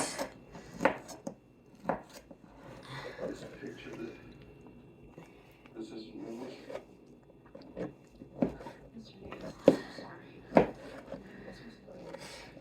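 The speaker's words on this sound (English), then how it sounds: "2 slices. Cut it up into squares." Ham slices being cut into squares for scalloped potatoes with ham and cheese, heard as scattered soft knife taps and thuds on a cutting board, irregular and fairly close, with a person talking throughout.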